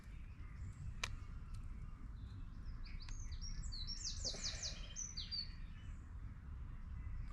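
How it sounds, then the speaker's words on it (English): Birds chirp and twitter in quick high trills in woodland, moderately distant, over a steady low outdoor rumble. "I'm just going to sit here for a bit and just listen to birds"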